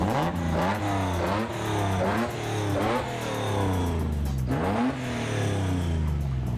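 A carbureted six-cylinder car engine revs hard several times up close, each blip climbing in pitch and then falling back to a rough, steady idle, with no talking.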